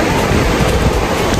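Ocean surf at Patar Beach during high tide rushes in as a loud, continuous roar blended with wind noise, close to the microphone.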